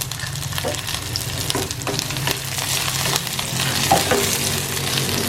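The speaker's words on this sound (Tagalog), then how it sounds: "Magigisa na tayo." Garlic and onion sauté in a pan for corned beef, giving a steady close sizzle broken by repeated scraping stirs, with no voices.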